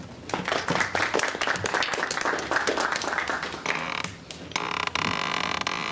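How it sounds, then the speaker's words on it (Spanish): Audience applause at a university informatics conference talk in Uruguay, a dense burst of hand claps that holds steady for several seconds with a brief dip near the end. "Un aplauso, por favor"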